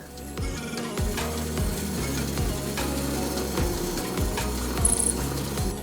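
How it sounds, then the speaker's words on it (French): A drill press whirs steadily with a low motor drone while the Forstner bit grinds and chatters into a cockpit panel, mechanical rattles recurring through the run. "il ne vous reste plus qu'à percer grâce à la perceuse sur colonne"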